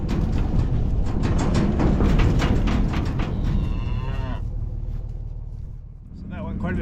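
A ranch cow moos in long, low, drawn-out calls over a steady rumble of engine noise, the lowing fading toward the end.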